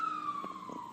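An emergency vehicle siren wails outside, heard faint and distant as a steady descending tone, with a few low murmurs of a voice under it.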